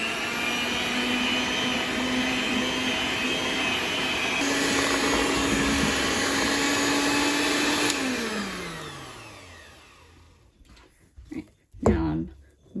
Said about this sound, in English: Now I'm mixing my dry ingredients in